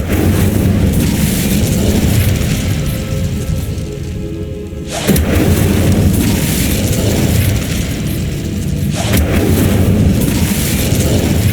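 A loud, sustained roaring whoosh of the Incendio fire spell in Hogwarts Legacy, a dense blast of flame noise that drops briefly and surges again, close and with no speech over it.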